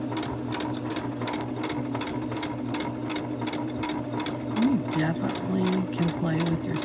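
Close, continuous rapid clatter of a sewing machine running a medium-width automatic zigzag stitch over rope, steady throughout while someone speaks over it.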